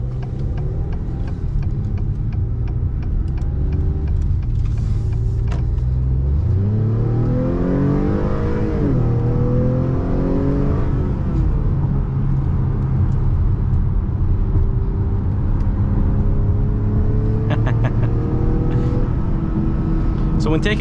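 A 2022 Acura TLX engine hums steadily from inside the cabin, rising in pitch as the car accelerates around the midpoint and then settling into a sustained drone, with road and tire noise throughout and someone talking over it.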